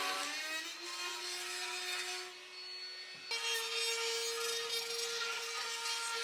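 Cordless router trimming the excess ends off wooden slats for mountain wall art, a steady high-pitched motor whine with a cutting buzz that dips briefly and shifts pitch midway before resuming, close and continuous.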